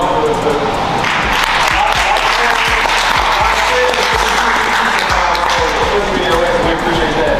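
Sustained applause from a banquet audience, dense and steady clapping filling the room at close range throughout.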